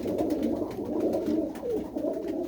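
Pigeons kept by a breeder in Mullanpur Kalan, Punjab, give a continuous low, throaty cooing, several birds close by and overlapping, with no talk.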